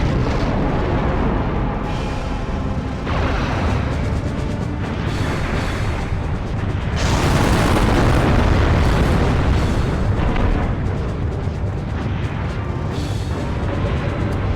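Grenade explosions in the video game Robot Alchemic Drive, a long run of heavy, roaring booms that keep surging and rolling one into the next, loud and continuous.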